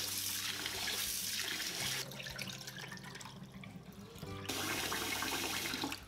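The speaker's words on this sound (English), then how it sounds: "we're gonna rinse the glutinous rice for several times." Glutinous rice is rinsed under a running kitchen tap, a steady close rush of water into a sink that drops to a softer trickle midway, then surges back to full flow.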